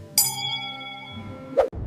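A single bright bell ding rings out and decays over about a second, then a short metallic clink follows, loud and close with nothing else around it.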